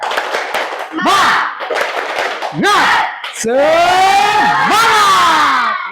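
A junior high school class on its feet does a spirit clap chant: bursts of rhythmic clapping and thumps punctuated by sharp group shouts, ending in a long, loud, rising collective cry.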